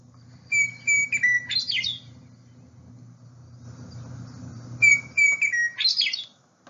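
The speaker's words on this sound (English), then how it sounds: "The western meadowlark has a sound like this." Western meadowlark song, two bright phrases of clear whistled notes ending in quick warbled flourishes, well separated by a pause, heard over a steady low rumble of distant traffic.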